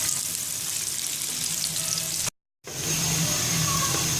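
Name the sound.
onions frying in oil until golden brown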